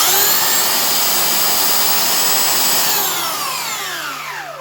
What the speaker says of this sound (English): sounds just about the same as any other belt sander